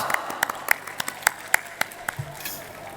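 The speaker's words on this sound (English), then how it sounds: "Give a huge round of applause." Scattered, uneven handclaps from a school annual day audience, around a dozen sharp claps spread across a few seconds with a faint murmur and room noise between them.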